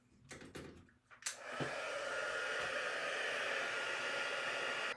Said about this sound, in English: grab my heat tool here